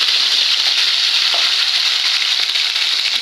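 Silver cup fish sizzle steadily in hot oil, a dense, continuous crackling hiss that stays loud and even throughout, with no voices.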